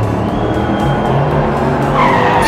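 Diecast toy race cars skid around a miniature track, giving a continuous loud whirring rumble with a rising squeal near the end.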